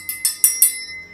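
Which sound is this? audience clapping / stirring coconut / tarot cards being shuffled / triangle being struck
triangle being struck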